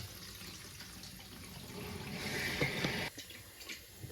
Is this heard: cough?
no